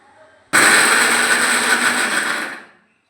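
A kitchen blender grinds soaked ingredients with salt and a little water into paste, starting abruptly, whirring loud and steady for about two seconds, then stopping.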